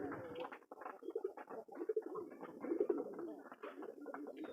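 Several pigeons coo softly and continuously inside a pigeon farm, their rolling, overlapping calls heard close by with a few faint chirps between them.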